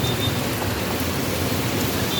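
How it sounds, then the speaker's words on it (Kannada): Heavy rain pours in a steady, dense hiss that fills the whole stretch, close and even in level, with no voices over it. "ಹೆವಿ ಮಳೆ"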